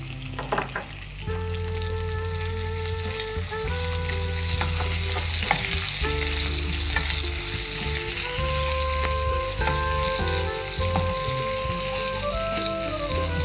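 Two long-sliced onions sauté in a pan with salt for onion rice, a constant close sizzle with occasional stirring scrapes, set against steady background music.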